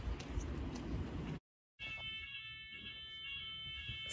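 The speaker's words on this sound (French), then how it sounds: "Il y a l'alarme incendie." A building fire alarm sounds in a French university setting, a high steady electronic tone holding on after a brief drop-out, faint and somewhat distant, with no one talking.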